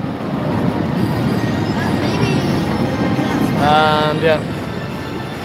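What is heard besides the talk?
roller coaster trains passing at Blackpool Pleasure Beach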